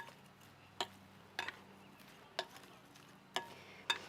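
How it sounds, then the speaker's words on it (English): Pineapple, cucumber and jalapeno salad ingredients tossed together in a bowl, five sharp scraping clicks spaced unevenly over a quiet background, no talking. "we're just going to mix all of our ingredients together"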